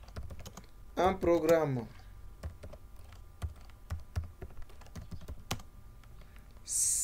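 Typing on a computer keyboard, with quick irregular key taps running throughout under a brief burst of speech.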